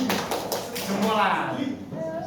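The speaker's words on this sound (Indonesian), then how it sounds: "Kasih tepuk jempol kepada yang selesai. Tangan gini. Jempol, jempolan." An audience does a thumb clap, giving a few soft, quick taps near the start, then a lighter patter as voices talk over and around it.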